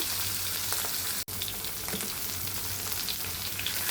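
Rohu fish marinated with turmeric, salt, ginger and garlic fries in a pan with a steady, close crackling sizzle that carries on evenly throughout, with no voices.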